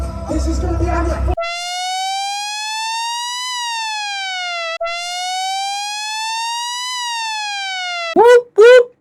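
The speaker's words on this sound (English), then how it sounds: "Whoop, whoop. It's a sound of the police." Police siren wailing loud and near, a single tone sweeping slowly up and down in long cycles, cut off at the end by a few short sharp yelps; a voice is heard briefly just before it starts.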